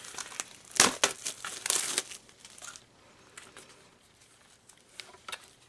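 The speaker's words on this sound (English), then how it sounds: "I didn't know this was all going to be shrink wrapped." Shrink-wrapped planner packaging being torn open by hand gives bursts of crinkling plastic and tearing, loudest early on, then softer scattered rustles and crackles up close with no talking.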